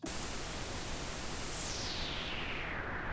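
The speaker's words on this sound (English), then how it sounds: "Now we've got pure pink noise." Steady synthesizer noise from a GForce Oberheim OB-X plugin hissing continuously, its brightness gradually dulling as the high end is filtered away into a softer pink noise.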